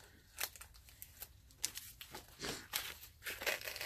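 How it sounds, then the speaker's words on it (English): Cellophane wrapping is peeled gently off a movie package, making faint, close crinkles and short tearing rustles in irregular bursts. "open the cellophane wrapping on here, so I just got to do it gently"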